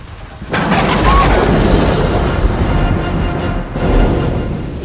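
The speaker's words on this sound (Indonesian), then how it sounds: "Dan seketika itu juga, tiba-tiba petir nyambar." A loud, sudden booming crash of a lightning strike hits close by, then rolls on as a sustained rumbling roar of thunder.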